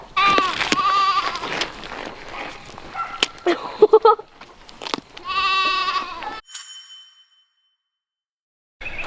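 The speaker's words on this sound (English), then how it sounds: "I'm gonna feed the Swiss chard to 2 of these goats." Several goats bleat loudly and up close, repeated wavering cries in bursts with short pauses, then silence near the end.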